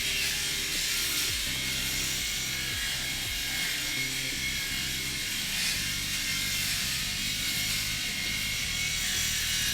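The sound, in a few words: small electric shaver motor running while shaving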